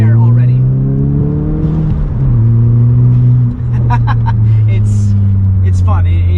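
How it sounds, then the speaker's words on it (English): Turbocharged VW MK7 GTI with an IS20 turbo accelerating, a loud steady engine drone that rises in pitch through the gear, with the engine note dropping briefly at a shift and faint turbo whistles and clicks on top. "this IS20 turbo spools up extremely quickly"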